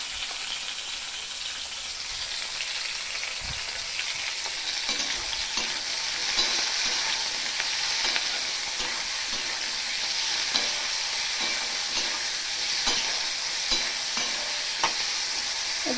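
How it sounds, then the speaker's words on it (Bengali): Sliced potatoes and green chillies frying in a pan over lowered heat, a steady close sizzle with intermittent scraping and stirring clicks, no voices. "তখন কি একটু ভাজা হোক আঁচটা একটু কম করে দিই"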